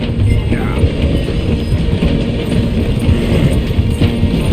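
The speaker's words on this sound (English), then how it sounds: "The train is slowing down to go through the station." A train slowing to pass through a station in the video game Red Dead Redemption II, with a loud, steady rumble of wheels and clanking, ratcheting carriage mechanisms and a brief squeal.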